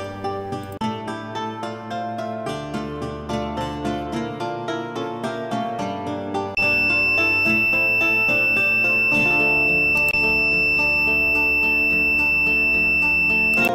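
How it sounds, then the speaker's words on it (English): A multimeter continuity test on potential transformer wiring gives a steady, high continuous beep. The beep starts about halfway through and holds to the end, layered over loud background music. "Let's check continuity between 1 and 2 by using multimeter, and hear the beep continuous sound."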